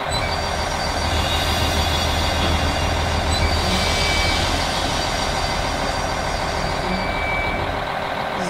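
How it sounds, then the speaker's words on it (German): A Desiro diesel multiple-unit train idles in Train Simulator 2016, a steady, loud engine drone with a low rumble and layered mechanical hum that runs unbroken throughout, with no one talking. "Jetzt mal den Motor starten."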